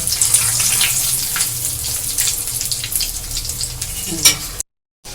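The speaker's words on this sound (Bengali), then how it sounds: "দেখুন কত সুন্দর আমার চপগুলো ভাজা হচ্ছে" Breadcrumb-coated capsicum chops fry in hot oil with a loud, close, continuous sizzle and crackle that cuts off abruptly near the end, with no talking.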